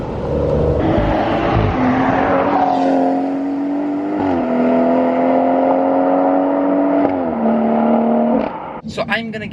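A BMW M140i on Goodyear tyres drives along, with engine drone that climbs through several gear changes and a steady road roar under it, ending in a brief clatter.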